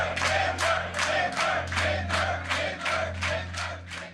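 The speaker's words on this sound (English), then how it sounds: "And his audience was clapping, less, less, less, less." A rally crowd at a Geert Wilders event chanting in unison in a steady rhythm, about nine repeated shouts with clapping beneath, loud and close.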